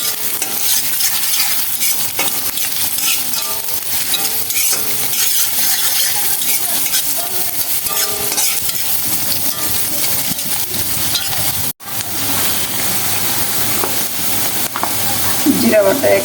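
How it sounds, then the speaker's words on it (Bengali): Chopped onions fry in a pan, a loud, dense, steady sizzle close up with occasional metallic clinks and scraping stirs, briefly cut off near the end before resuming. "পেঁয়াজ কুচিগুলো একটু ভেজে নরম করে"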